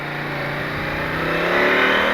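A KTM 890 Adventure motorcycle fitted with an aftermarket AliExpress exhaust revs up, its engine note climbing steadily and growing louder at close range, with no voices.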